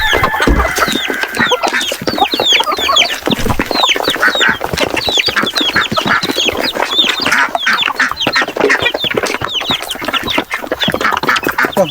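Flock of layer hens on a small farm at feeding time, loud, dense clucking and squawking from many birds close by, continuous throughout with no talking.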